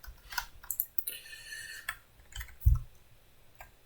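Someone types on a computer keyboard close by, with irregular light clicks and taps spread across a few seconds and one heavier key thump near the end.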